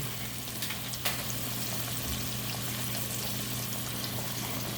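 Pork ribs fry in a pan with a steady, soft sizzle and crackle, fairly quiet and continuous, with a brief clatter near the start and no talking.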